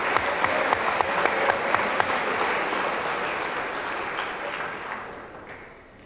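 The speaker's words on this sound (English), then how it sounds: "How about a nice round of applause for Tim Snyder," Crowd applause at a university athletics awards night: a roomful of hands claps steadily and loudly, with a few sharper claps early on, then gradually thins and fades out over the final seconds.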